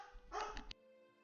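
A dog gives a single short bark close by, with a brief whimpery edge, then quiet.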